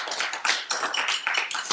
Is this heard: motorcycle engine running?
no